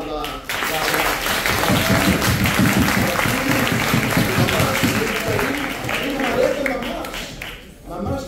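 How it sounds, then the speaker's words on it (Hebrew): A seated audience breaks into sustained applause at a yeshiva gathering. The clapping is loud and fills several seconds, with voices mixed into the crowd noise. "ובאמת מגיע מחיאות כפיים"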